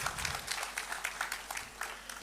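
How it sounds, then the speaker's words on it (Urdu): Applause from an audience at a Blue World City Islamabad briefing on its Sports Valley project: steady, dense clapping that continues throughout without pause. "تو خصوصی تالیاں ان کی پوری فیملی کے لیے، ندیم اعجاز صاحب کے لیے، نعیم اعجاز صاحب کے"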